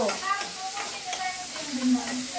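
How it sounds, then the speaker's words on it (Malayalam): Ginger, green chili and onion are dry-roasted in a pan without water, giving quick scraping stirs and a light crackle, close and brief with no talking. "വെറുതെ ഒന്ന് റോസ്റ്റ് ചെയ്തെടുക്കാം"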